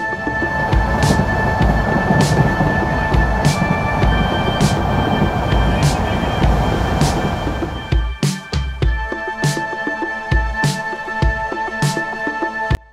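From inside a moving passenger train on the line to Cox's Bazar, a loud, continuous rumble fills the carriage, then gives way to sharp, rhythmic clickety-clack beats from the wheels crossing rail joints.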